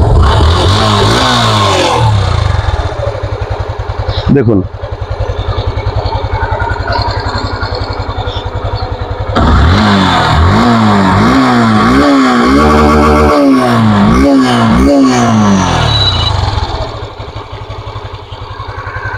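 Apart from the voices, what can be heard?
Yamaha Fazer version 2 motorcycle engine started and revving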